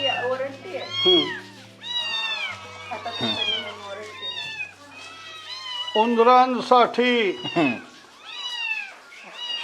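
Cats and kittens on a Konkan mango farm meow repeatedly in overlapping, rising and falling calls, close and loud, with someone talking underneath.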